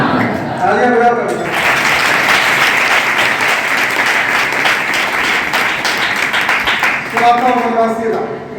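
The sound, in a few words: applause, clapping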